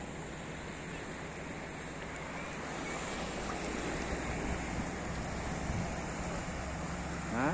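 Calm sea at Kỳ Xuân, Hà Tĩnh, with small waves washing in under a steady hiss of surf and breeze, swelling slightly midway and holding steady, no one speaking.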